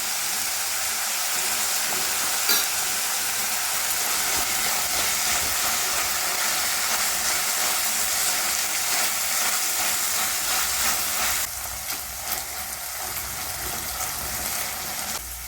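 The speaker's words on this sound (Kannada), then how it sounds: "ಇದನ್ನ ಫ್ರೈ ಮಾಡ್ಕೊಳ್ಳೋಣ. ಶುಂಠಿ ಬೆಳ್ಳುಳ್ಳಿ ಪೇಸ್ಟ್ ಹಾಕ್ಕೊಳ್ತಾ ಇದ್ದೀನಿ 1 ಸ್ಪೂನು." A spoonful of ginger garlic paste sizzles hard in a hot pan, a loud, steady, dense hiss with crackle running throughout and easing slightly toward the end.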